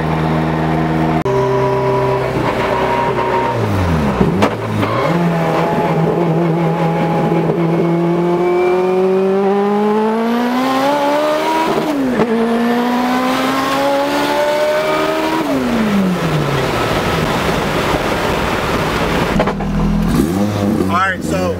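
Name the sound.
900 whp Toyota MR2 accelerating hard under boost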